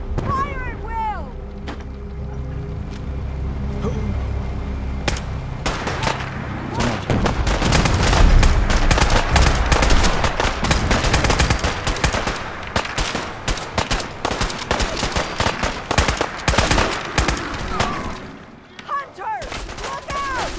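Heavy gunfire in Fallout 4's Far Harbor, rapid overlapping shots and automatic bursts forming a dense, loud barrage for most of the stretch, with shouting voices at the start and a brief lull before shots resume.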